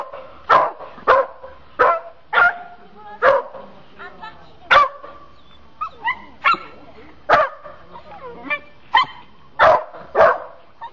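A dog barks repeatedly outdoors at Senez, loud and close, with sharp barks spaced roughly every half second to second, mixed with a few whimpering yips, and voices heard at times.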